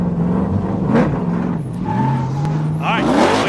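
Tandem drift cars launching at the start of a run in a drift competition series, engines revving and rising in pitch with tire noise, loud and close, under a commentator's voice.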